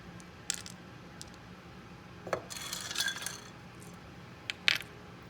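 Ice cubes are set down on two blocks, making a few light, sparse clinks and taps spread over several seconds against a quiet background, with no speech.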